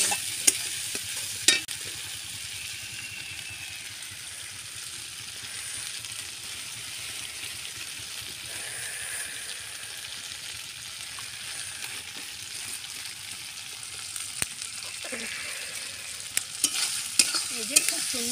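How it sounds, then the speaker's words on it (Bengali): Spice paste frying in oil in a pan, a continuous bright close sizzle with a few occasional clinks and stirring scrapes, no voices. "এই দেখুন মশলাটা সুন্দর কষা হয়েছে, দারুণ তেল ছেড়েছে"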